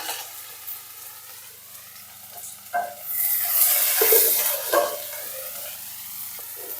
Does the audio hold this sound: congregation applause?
no